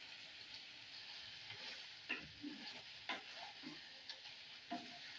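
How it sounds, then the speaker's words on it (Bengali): Spinach paste going into chicken frying in oil in a pan, a soft steady sizzle with occasional spoon scrapes and taps, quiet and close with no talking. "এবার আমি পালং শাক পেস্টটা দিয়ে দেব।"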